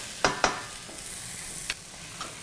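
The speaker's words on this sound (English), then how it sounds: "I'll be stirring it often so it doesn't burn over this high heat" Szechuan chicken stir-frying over high heat, a soft continuous sizzle broken by two quick close scrapes of the spatula early on and a couple of lighter stirs later.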